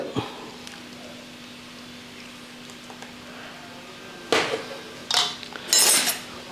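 A spoon stirs jaggery and thick coconut milk for a snap melon juice: a quiet stretch, then several loud metallic clinks and scrapes of the spoon against the vessel near the end.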